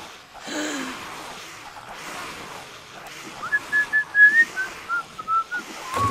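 A person whistles a short run of clear, wavering notes in quick bursts, close and fairly loud, after some breathy gasps and rustling near a game session.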